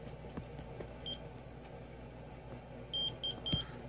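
Short electronic beeps from a multimeter's continuity test on the high pressure control of a water source heat pump: a single chirp, then a cluster of three quick tones, clear above a low background hum.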